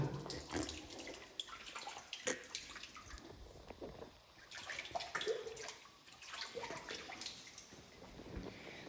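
Spring water at Sveti Naum flows in a steady, fairly loud rush, with broadband splashing and gurgling that continues without a break throughout.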